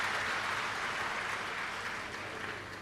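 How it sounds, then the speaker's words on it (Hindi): An audience at a Hindu Shiv Mahapuran religious discourse gives a dense, continuous round of applause, a loud wash of clapping that fades slightly toward the end. "एक बार यजमान परिवार के लिए जोरदार ताली बजाकर सभी का स्वागत वंदन अभिनंदन"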